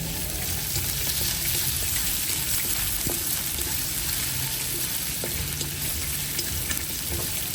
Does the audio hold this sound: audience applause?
no